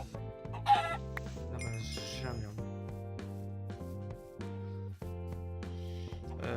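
Chickens cluck in the video game Minecraft, with several short clucks over steady background game tones.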